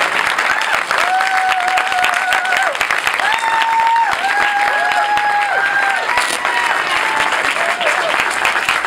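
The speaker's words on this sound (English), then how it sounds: "please give a round of applause for Keith Olberman" Loud, dense applause and cheering fill a premiere screening room for Keith Olbermann's introduction, a continuous roar of clapping with a steady tone running through it, no speech over it.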